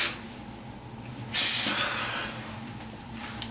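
Hairspray sprayed onto styled, rolled hair: a single loud, close hissing spray burst lasting about a third of a second, set against quiet room background.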